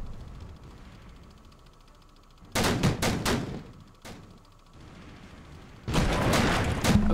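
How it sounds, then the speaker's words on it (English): Naval gun turrets firing at a hostile ship in the World War 2 game Victory at Sea Atlantic: two loud bursts of rapid booming shots, separated by quieter engine and sea ambience, with a single sharp report between them. "With a gun selected, fire on the hostile ship."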